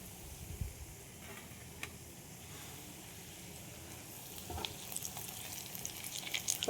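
Paneer fries in hot oil, giving a steady low sizzle and faint crackle under light kitchen clatter, with a soft metallic tick now and then.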